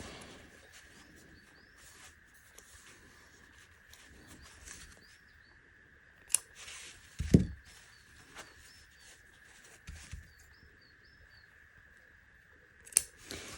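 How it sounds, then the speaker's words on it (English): Scissors snipping a small notch in fabric while sewing a bag, a few sharp isolated snips against a quiet room with a faint steady hum. "you just want to make a little snip, a notch or a marker point to get your halfway point"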